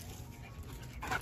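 Faint whimpering and light vocal noises from a big dog close by, soft and brief against low background hum, no talk.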